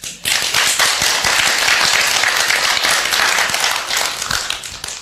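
A seminar audience at a public-speaking course claps loudly and steadily, a dense wall of hand claps that holds for several seconds with no voice over it.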